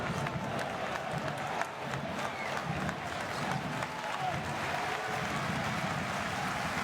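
A basketball arena crowd during a Basketball Champions League free throw gives a sustained, dense roar of cheering and applause, broad and steady throughout with no clear breaks.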